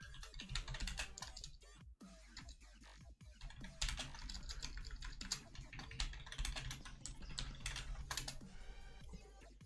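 Steady typing on a Saytech Eclipse 2 keyboard, quick uneven keystrokes clattering close up with short pauses, alone without talk.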